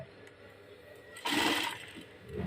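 Sewing machine stitching a corset, a short quiet whir that swells into a brief louder burst of rapid stitching before easing off, alone and close.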